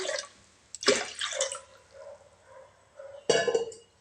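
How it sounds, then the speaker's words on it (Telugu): Water poured into a pressure cooker holding washed toor dal for vegetable sambar, heard as a few short splashing, trickling bursts with clinks of the pot between quiet pauses, close and fairly soft. "ఇప్పుడు ఇందులోకి కొంచెం వాటర్ వేసుకుందాం"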